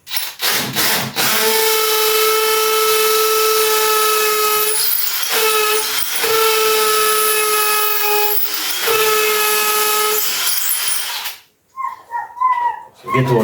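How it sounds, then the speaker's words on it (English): A loud, high-pitched drill whines steadily in two long bursts into a wall, with a short break between them, then stops, followed by a few brief knocks. "Wanna drill out a lot of dust in there."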